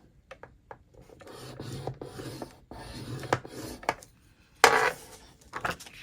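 Cardstock being scored with a scoring tool for a chunky junk journal mini album, heard as soft rasping, rubbing strokes and a few sharper clicks and taps, close and fairly quiet, with no talking.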